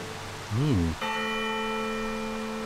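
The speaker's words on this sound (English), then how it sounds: "Listen, the bells." Church bells ring in the video game Rogue Galaxy, entering as a sustained, resonant bell tone that holds steadily after a brief swooping vocal-like sound at the start.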